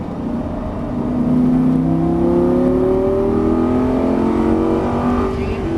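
A Lamborghini Gallardo on the Exotics Racing track in Las Vegas: its engine roars close and loud as the car comes back on the throttle, the rising pitch climbing steadily through the run without a break.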